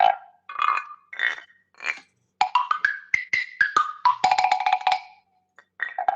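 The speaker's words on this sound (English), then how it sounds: "It's some sort of woodblock contraption given to me by a good buddy, Matt Hunter." A woodblock percussion contraption is played in a quick run of hollow, pitched knocks, starting with a few spaced strikes and then tumbling into a dense, close cluster of notes before a brief pause and more hits.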